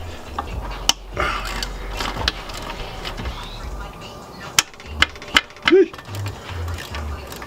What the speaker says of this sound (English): take out the 3 screw bolts, whatever you call them. Take those out, that'll loosen that up.